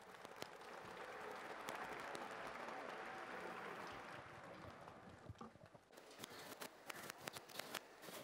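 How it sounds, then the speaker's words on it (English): A crowd at a cancer awareness marathon applauds the runners, a dense sustained wash of clapping that thins into scattered, sharper individual claps toward the end. "Can we have a big round of applause for the runners out here?"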